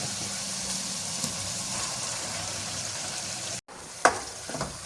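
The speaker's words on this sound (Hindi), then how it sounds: "तो अब मैं इसके अंदर ये जो आलू का हमने पेस्ट बनाया हुआ है, आलू का भुर्ता मोटा मोटा, वो इसमें शामिल करेंगे।" Mashed potato bharta tipped into a hot frying pan on a lowered flame for Punjabi aloo bharta, a steady broad sizzle running throughout, cut by a brief drop near the end before clattering stir scrapes return.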